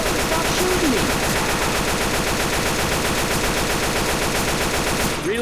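Rapid, sustained automatic gunfire in the video game Left 4 Dead 2, a loud continuous burst of dense shots filling the whole stretch without letting up.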